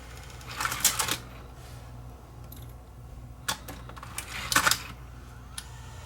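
A Sony EVC100 Hi8 VCR ejects and loads a tape with quiet mechanical clicks, whirs and rattles in two bursts separated by a lull, heard close over a low steady hum.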